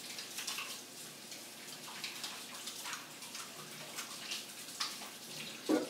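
Tap water runs steadily at a kitchen sink while hands are washed, a soft continuous splash with small irregular surges, heard close and alone.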